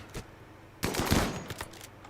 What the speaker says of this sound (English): We're putting a lot of bullets out there.